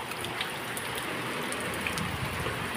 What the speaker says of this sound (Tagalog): Lakas ng ulan, bagyo.